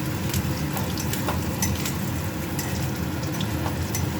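Whole spices, bay leaf, cashews and ginger sizzle and fry in a kadai for chicken rice, a loud steady crackling hiss with scattered pops and occasional stirring clinks.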